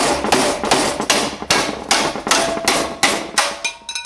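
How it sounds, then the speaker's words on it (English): Repeated sharp metallic hammer blows tapping a part out of a roller wind guard, about ten strikes at a steady rhythm, loud and close, with ringing between hits. "I'm just going to tap that out of there with a hammer"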